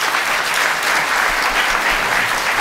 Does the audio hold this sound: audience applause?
yes